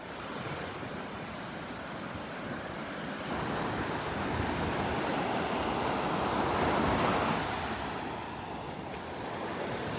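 Ocean surf breaks on the beach at Barefoot Beach Preserve, a continuous broad wash of waves that swells to a louder crash midway and then eases back, with some wind buffeting the microphone.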